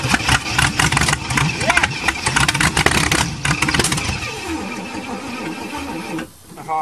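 An old Chevy engine cold-starts and runs roughly, cranking and catching into an uneven, loud mid-pitched idle with sputters, then dips briefly near the end before picking back up, with voices over it.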